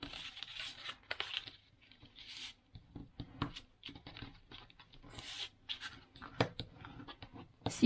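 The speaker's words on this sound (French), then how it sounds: "Ensuite, vous marquez les plis" Paper being creased and folded by hand to make a pocket for a wedding album, with close, dry scraping and crinkling strokes that come in irregular bursts and short pauses, with no talking.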